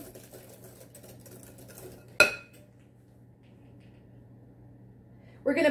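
Eggs being beaten in a mixing bowl for a buttermilk pie: soft, steady scraping for about two seconds, one sharp clink of a utensil against the bowl, a quiet stretch, then a brief burst of stirring at the end.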